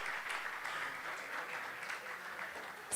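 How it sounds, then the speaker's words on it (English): Steady applause from an audience at a conference, celebrating a woman's birthday, filling the room with dense clapping at a moderate level throughout, with a sharper burst at the very end. "Give her a round of applause."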